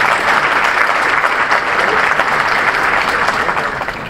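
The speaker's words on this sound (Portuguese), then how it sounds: "Uma salva de palmas, o cara acertou." A lecture audience breaks into loud, close, sustained clapping for someone who answered correctly, a dense steady wash that eases slightly at the end.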